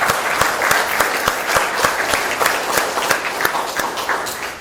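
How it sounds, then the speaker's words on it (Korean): Audience applause at a Democratic Party members' training session, dense and steady with sharp individual claps standing out, loud and close throughout with no talk over it. "우리 같이 박수 한번 치시죠"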